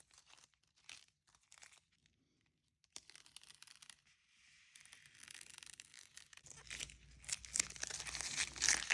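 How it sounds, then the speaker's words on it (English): Masking tape is slowly peeled off paper in an elementary art class, starting as scattered faint crinkles and gaps, then growing into a louder, continuous tearing rip toward the end, close and without speech. "So we're going to peel the masking tape a little bit so it's kind of off of the paper."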